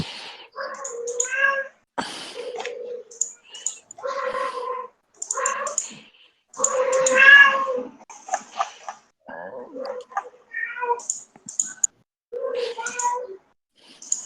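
A cat meows repeatedly at home, a series of near, clear mewing calls spread across the stretch, some rising and insistent, with quiet moments between them.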